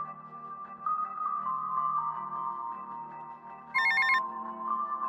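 A payphone rings in the video game GTA Vice City, an electronic ring tone repeating steadily at moderate level, with a brighter burst of tones near the end.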